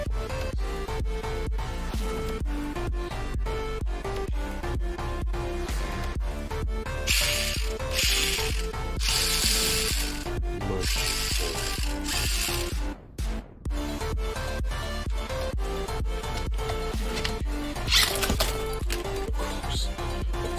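An XMODS RC car's wheel and gears spin freely, making a steady whirring, ticking mechanical drone with rapid clicks throughout, briefly cutting out once before resuming.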